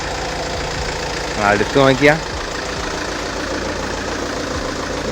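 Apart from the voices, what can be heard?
Tata Safari Dicor 2.2 2008 engine idling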